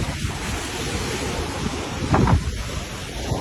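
Released water from the Moragahakanda dam rushes downstream in a dense, loud continuous roar outdoors, partly buffeted by wind on the microphone, with a short surge midway.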